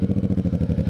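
A motorcycle engine runs close by in a quick, even throbbing pulse, loud and alone for under a second.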